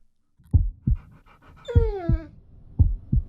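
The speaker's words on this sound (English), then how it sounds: "Norville, that dog is big and brown, which is the exact opposite of Fred's tiny" A big brown dog pants in short, rhythmic huffs close by, with a brief whimpering whine in the middle of the breaths.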